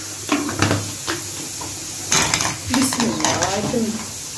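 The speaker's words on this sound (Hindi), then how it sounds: "ये मैंने थोड़े से कर लिए फ्राई" Potatoes fry in a pan for a potato omelette, giving a close sizzle broken by stirring scrapes and light utensil clatter, with a brief soft voice near the end.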